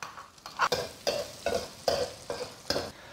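Ginger, scallion and garlic hit a hot wok with pork belly already rendered in a little oil, giving close, steady sizzling broken by rhythmic spatula scrapes and tosses about every half second, with no talking.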